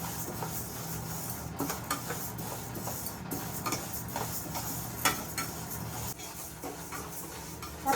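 Moong dal dry-roasting in a pan gives a steady dry rustle and scrape as it is stirred, with light irregular clicks of the spoon against the metal throughout.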